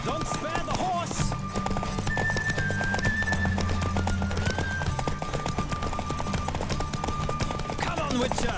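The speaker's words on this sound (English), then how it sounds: "Don't spare the horse!" Galloping hoofbeats drive on without a break during a horse race in The Witcher 3, close and loud over a low droning score with tonal notes above.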